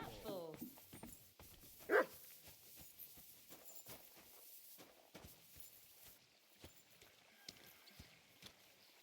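Dog barking in the Kingdom Come: Deliverance II video game, a couple of sharp barks near the start amid hoof clops and footsteps, with someone talking through the clip.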